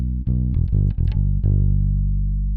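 Electric bass guitar played through a Tech21 VT Bass DI set to an Ampeg SVT-style tone, a short run of loud, warm, slightly gritty plucked notes with a sustained final note ringing out, no talk.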